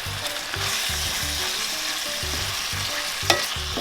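Peppers and onions stirred in a hot frying pan, a loud continuous sizzle broken by rhythmic scraping strokes of the utensil, with no voices.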